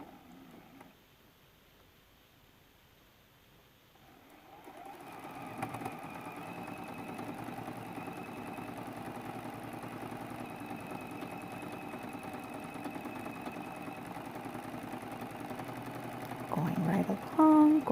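A sewing machine runs steadily while stitching along the raw edge of an apron seam, a continuous mid-pitched mechanical hum that starts after a few quiet seconds and holds nearly level to the end, close and moderately soft.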